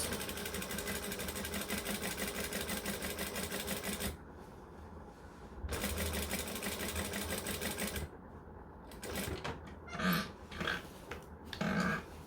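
A sewing machine stitching a denim jacket, running in a steady mechanical rattle, pausing briefly and starting again, then giving way to short stops and handling noises near the end.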